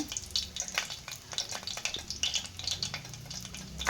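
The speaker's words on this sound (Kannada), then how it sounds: "ಇದೆಲ್ಲ ಚೆನ್ನಾಗಿ ಎಣ್ಣೆಯಲ್ಲಿ ಫ್ರೈ ಆಗಲಿ" Slit green chillies fry in oil for a fresh pea and fenugreek leaf gravy, a close, busy crackling sizzle with quick spattering pops throughout.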